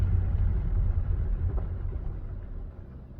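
A 2009 Chevrolet Malibu Hybrid idles with its transmission in limp mode, a low steady engine rumble close by that gradually fades and quiets toward the end.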